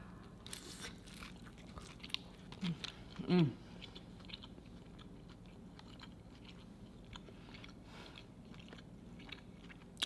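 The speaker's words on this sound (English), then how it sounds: "I'm gonna finish this taco, get a couple more bites." Crunchy bites and moist chewing of a birria chicken taco with toasted cheese come close to the mic, with a few sharp crunches standing out against a quiet room.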